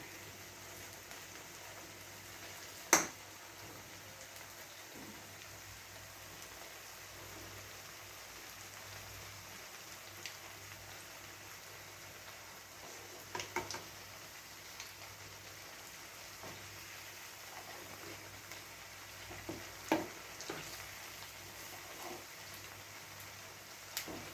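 A ginger snack frying in a pan, heard as a faint, steady bubbling hiss like light rain. A few soft clicks and pops break through now and then, and nobody talks.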